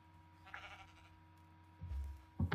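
Sheep in a farming video game bleat in short bursts, one soft cry early, then louder bleats near the end, over a quiet ambient game background.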